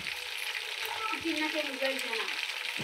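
Kebabs fry in a pan with a soft, continuous sizzle and faint stirring, and a voice is briefly audible in the background.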